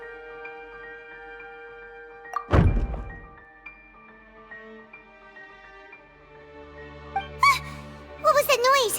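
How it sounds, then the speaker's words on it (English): A decoration knocked over in the Genshin Impact video game lands with a single loud thud partway through, amid soft musical game ambience, with brief squeaky character voices afterward. "I seem to have accidentally knocked over a decoration."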